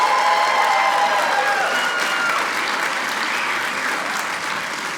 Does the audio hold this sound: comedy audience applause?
yes